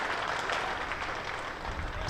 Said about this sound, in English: most of them have stood up applauding Aneurin Donald